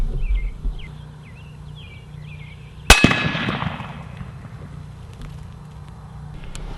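A 5.56 NATO 62-grain green-tip rifle round fires into a steel I-beam with a single loud, sharp crack and metallic clang that rings briefly before fading, while birds chirp faintly outdoors before the shot.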